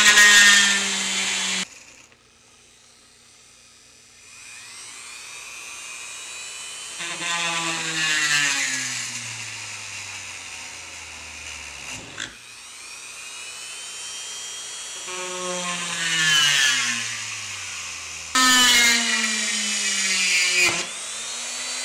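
High-pitched drill whine in repeated bursts as holes are drilled in eyeglass lenses, pitch rising and falling as the bit bites, with short pauses between passes; close and fairly loud.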